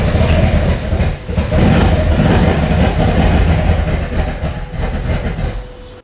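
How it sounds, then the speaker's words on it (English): A supercar engine fires up and settles into a rough, loud idle close by, its low rumble pulsing unevenly before cutting off abruptly at the end. "Turn the key the second time and the thing comes to life."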